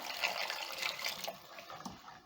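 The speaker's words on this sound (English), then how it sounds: "I'm going to add in a little bit of water" Water poured into a pot of beef stew makes a soft, splashy trickling stream that fades after a couple of seconds, heard alone and fairly quiet.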